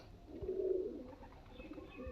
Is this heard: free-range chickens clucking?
no